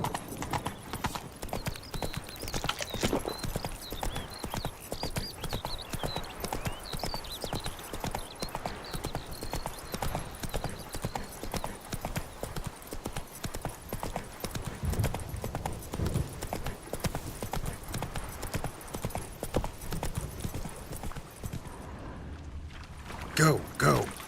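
Horse hooves clip-clopping at a steady galloping rhythm in the Witcher 3 video game, close and continuous for most of the stretch, with game voices talking over it and the hoofbeats cutting off near the end.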